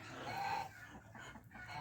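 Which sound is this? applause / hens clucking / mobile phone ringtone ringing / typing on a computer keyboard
hens clucking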